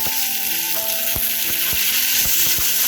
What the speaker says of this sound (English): Now I am adding the tomato.